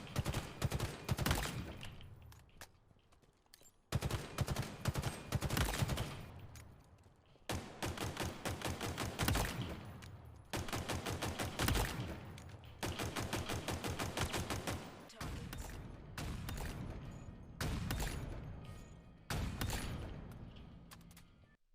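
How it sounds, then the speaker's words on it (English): Halo Infinite gunfire as the BR, Magnum and sniper are tested, loud bursts of rapid shots and single cracks in several separate volleys with brief pauses between, close and without talk. "I had to try out the new guns, and of course see how the BR, the Magnum, and the Sniper worked."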